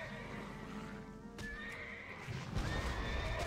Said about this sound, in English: Jump, horse, jump!